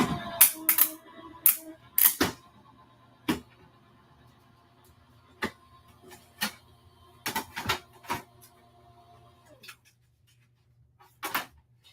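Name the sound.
paper cracking while run through an embossing die machine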